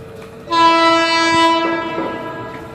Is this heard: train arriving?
yes